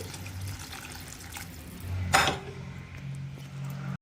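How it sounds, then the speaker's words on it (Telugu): Water poured from a glass into a cooking pot for paneer biryani rice, a close splashing gush in the middle amid quieter kitchen water sounds and light clatter. "4 గ్లాసులు వాటర్ కదా, నేనైతే 3:30కి పోస్తున్నానండి."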